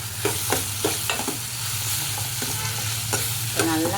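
Onion, tomato, green chili and garlic sauté for sambar in a pan, giving a steady close sizzle with regular stirring scrapes roughly every half second and a faint low hum underneath.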